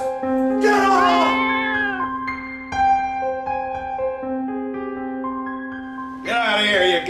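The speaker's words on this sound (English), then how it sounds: "Get out of here, you goddamn cat!" A cat meows repeatedly in long, drawn-out wailing cries, loud and close, with a steady low tone sustained underneath between the calls.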